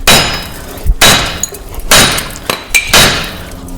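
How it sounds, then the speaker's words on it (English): A big hammer strikes the wheel hub of a 2005 Subaru Legacy five times, up close and loud. Each blow is a sharp metallic bang with a ringing clink, spaced irregularly about half a second to a second apart. "now I got my big hammer here, and we're just going to see if we can hammer this off real quick"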